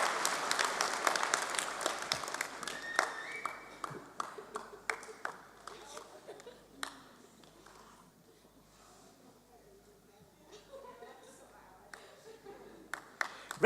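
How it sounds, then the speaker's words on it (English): Audience applause at a London university degree ceremony bursts out loudly at first, then thins into scattered, fading claps and a few sharp taps, with faint murmuring beneath. "It's nice to have this little cheer."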